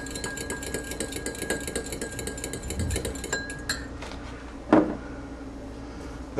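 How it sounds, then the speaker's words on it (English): A spoon scrapes and clinks against a bowl while half-and-half is stirred into a meatloaf mixture in a home kitchen, with rhythmic metallic scraping, a couple of louder knocks and no talking. "And again with the stirring."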